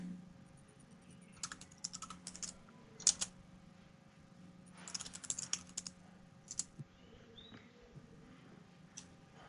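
Someone types on a computer keyboard while working in MATLAB, giving close, irregular bursts of keystrokes with short pauses between runs, over a faint steady background hum.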